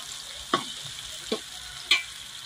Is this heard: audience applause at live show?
no